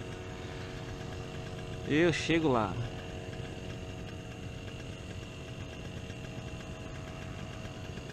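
A small two-stroke paramotor engine idles with a steady droning hum throughout, while a person speaks briefly over it early on.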